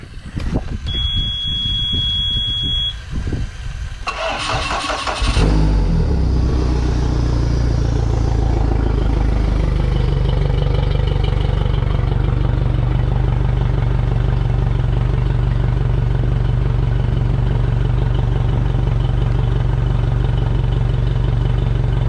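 A Suzuki outboard engine with a high-idle fault clicks and cranks, catches around five seconds in, then runs at a loud, steady, close idle with a rhythmic mechanical chug.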